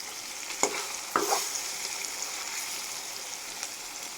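Meat sizzles and hisses in a hot pan, a continuous frying sound with a couple of sharp clatters near the start as it is stirred.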